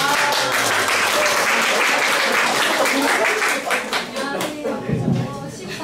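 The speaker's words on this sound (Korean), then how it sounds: "한번 박수로 청해서 들어오겠습니다" An audience claps steadily throughout, a dense sustained applause at a Korean teacher's counseling-tool presentation event, with some voices mixed in near the end.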